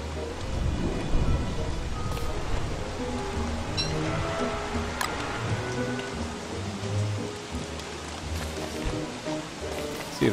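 Video game rain and thunder from Don't Starve: steady, heavy rainfall with low, rolling thunder rumbling throughout, no voices.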